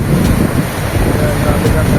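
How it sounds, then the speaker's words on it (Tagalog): Strong habagat monsoon wind gusts at Boracay, blowing hard and steadily into the microphone as a loud, continuous rumbling roar, with a faint wash of sea surf underneath. "Mahangin. Abagat na kasi."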